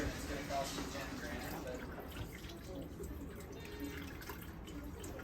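Water pours steadily into an OXO 9-cup coffee brewer reservoir at close range, a continuous splashing trickle with a faint voice murmuring underneath.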